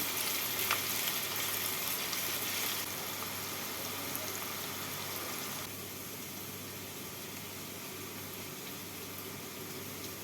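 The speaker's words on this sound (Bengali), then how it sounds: "এর মধ্যে আমি এবার দিয়ে দিচ্ছি দুটো মিডিয়াম সাইজের কুচনো পেঁয়াজ পেঁয়াজটাকে বাদামি করে ভেজে নেব" Two medium-size chopped onions fry in hot oil in a pan, giving a steady, fairly faint sizzle that stays continuous and softens slightly partway through, with no talking.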